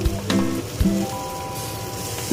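Warm water hits a pan of frying tomato and onion curry, setting off a loud, close sizzle with a couple of sharp splashy bursts and a bubbling hiss that keeps going.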